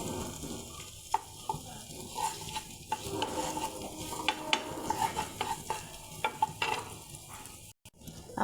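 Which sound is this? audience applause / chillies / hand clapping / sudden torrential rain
chillies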